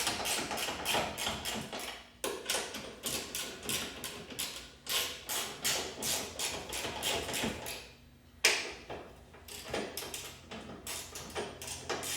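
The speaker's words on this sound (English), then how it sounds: "Just gonna get them started with my ratchet" A ratchet spins strut mount nuts onto an E36 M3, a series of quick clicking bursts in close, repeated rhythmic runs with short pauses between.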